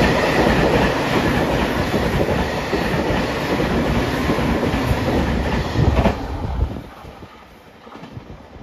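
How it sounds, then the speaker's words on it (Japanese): A JR Shikoku 8000 series limited express train rushes past on the Yosan Line in Ehime, a loud steady roar of wheels and rail clatter with wind noise that fades over the last couple of seconds. "8000系特急電車の通過です。"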